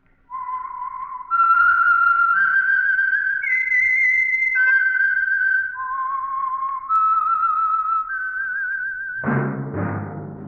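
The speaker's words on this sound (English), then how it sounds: "That whistle is your signal for the Signal Oil Program" A clear whistled melody of held notes stepping up and down, close and loud, ending with a brief burst of sound; the theme whistle of the old radio drama The Whistler.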